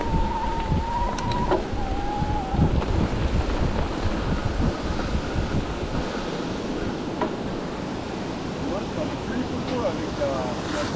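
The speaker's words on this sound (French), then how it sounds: "La cascade blanche." A white waterfall along a mountain-bike route at Le Cholet roars as a steady, dense wash, heard up close. Wind buffets the microphone throughout, a brief tone sounds early on, and a few faint clicks and rattles come through.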